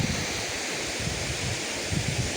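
Water pouring down from above at Tatiguda falls, a brief, steady broadband rush with a faint low rumble underneath and no voices.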